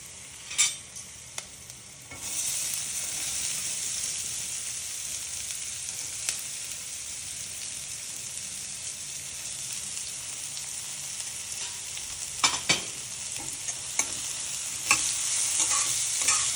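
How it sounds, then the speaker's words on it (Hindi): Onion frying in a pan after ginger, sizzling steadily throughout with intermittent scraping stirs; the hiss jumps louder after about two seconds as the onion goes in, close and alone with no voices. "प्याज को हमें ज़्यादा नहीं फ्राई करना है, ये जब तक सॉफ्ट ना हो जाए तब तक फ्राई करना है।"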